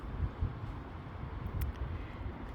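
Wind blows outdoors in a backyard beside a pool, a faint steady low rumble buffeting the microphone with no other clear sounds.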